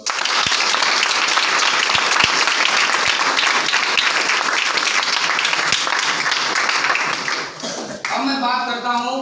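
A seminar audience at a business plan meeting in Varanasi breaks into loud, sustained applause with dense clapping that dips briefly near the end, as a voice begins speaking over it.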